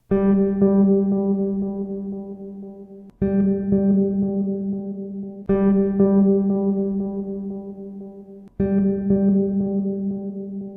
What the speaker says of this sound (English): delay after reverb, where you can hear the delay more